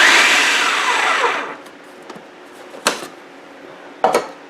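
A blender whirs loudly as it grinds washing soda into a fine powder, then cuts off, followed by a few sharp knocks and clatters.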